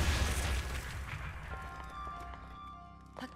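A bomb in the game Breath of the Wild goes off with a deep booming blast that decays into rumbling debris, followed by a small pop near the end.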